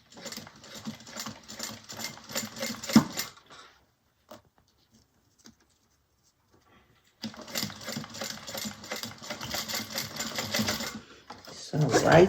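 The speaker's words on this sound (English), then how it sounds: "And then we're going to sew them on at 1/4 inch." Sewing machine stitching zipper tabs onto a bag at a quarter-inch seam, two close bursts of rapid rattling stitches separated by a near-silent pause.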